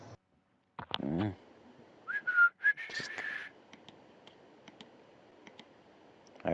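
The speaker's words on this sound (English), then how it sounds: "I just heard oddly shitty whistling." A person whistles a short, wavering tune at close range, a few rising and falling notes amid clicks and light rustling in a quiet room.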